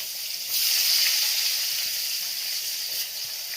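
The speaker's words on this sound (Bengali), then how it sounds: "এরপর কুচি করা পেঁয়াজগুলো দিয়ে দেবো ভালোভাবে ভেজে নেবো" Chopped onions frying in hot oil with whole cardamom, cloves, cumin and cinnamon give off a steady, close, loud sizzle that swells briefly near the start and holds without any talk.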